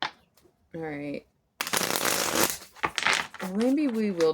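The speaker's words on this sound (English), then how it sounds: "Let me shuffle." A deck of tarot cards is shuffled by hand in a quick riffling burst, and a person talks briefly before and after the shuffling.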